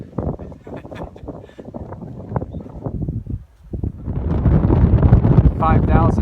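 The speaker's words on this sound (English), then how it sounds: "It's definitely windy up here." Strong wind buffets the microphone on the open summit of Big Bald on the Appalachian Trail. It makes a loud, continuous roaring rumble that surges and grows heavier toward the end.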